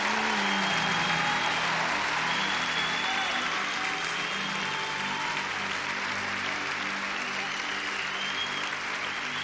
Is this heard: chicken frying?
no